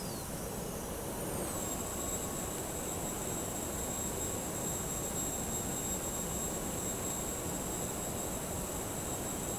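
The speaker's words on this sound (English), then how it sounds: "Monitoring the engine as it spools up." Tornado F3 jet engine spooling up in the Prepar3D flight simulator, a steady loud turbine roar with a high whine that rises in pitch early on and then holds, alone without talk.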